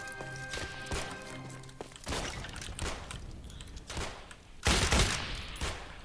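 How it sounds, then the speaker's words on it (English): Gunfire in the Roblox game Entrenched: bursts of rapid shots and single sharp cracks, some heavier impacts near the end, loud and close, with no speech over them. "I keep shooting the wall"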